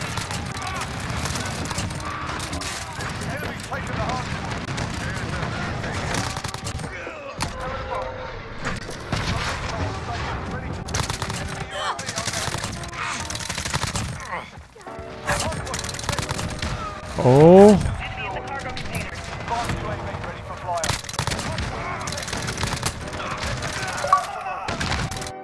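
Call of Duty Modern Warfare firefight with dense, continuous bursts of automatic gunfire and thuds over a full stretch, loud and close, with excited voices talking over the shooting.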